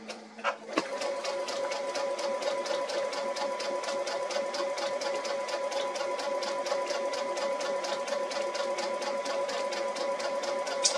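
A sewing machine stitches along a drawn seam line during Westalee ruler quilting, a fast, even mechanical whirr with a regular rapid needle rhythm that runs steadily and close, starting after a brief knock.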